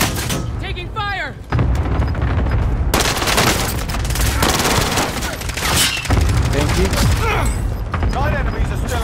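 Dense gunfire from the video game Warzone, with rapid bursts, heavy booms and explosions from a cluster strike filling the whole stretch, loud and continuous while players shout over it.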